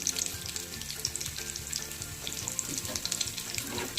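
Yogurt is poured into a hot pan of curry paste, bringing a soft, bubbling sizzle with faint liquid splashing and gentle stirring, fairly quiet throughout.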